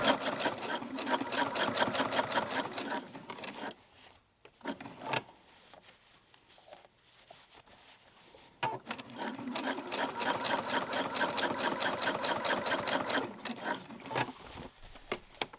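A sewing machine stitches a jeans hem in a rapid steady run, pauses for several seconds with light handling noises, then resumes its fast rhythmic stitching, close and clear.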